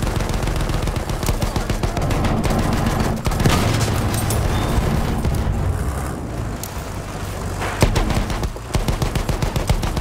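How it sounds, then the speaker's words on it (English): Heavy machine-gun fire in Battlefield 1 on the Sinai Desert map, loud rapid bursts rattling almost without pause, with a few louder booms and brief gaps between volleys. "Can these machine guns hurt armor at all?"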